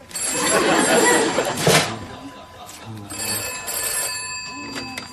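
A telephone bell rings a few times in a room, with other household sounds and movement around it.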